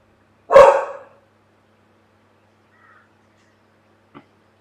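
A single loud, close dog bark rings out, followed by near silence and a faint click.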